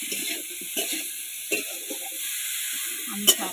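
Potatoes fry in oil until reddish, giving a low continuous sizzle with faint scraping stirs and a single sharp spatula tap near the end, close and fairly quiet.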